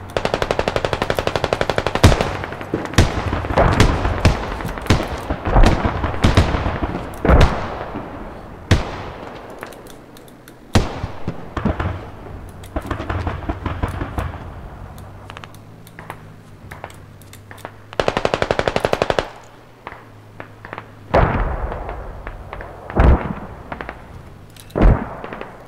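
Explosions and gunfire in the video game Squad, with mortar rounds landing among loud, sharp bursts and rapid volleys that come in clusters with brief quiet gaps.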